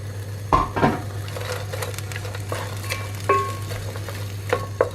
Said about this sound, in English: I've got my onion, which I'm going to put in, and I need to fry that off for a little bit